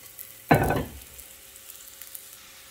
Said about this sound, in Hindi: इनको हम हल्का सा फ्राई करेंगे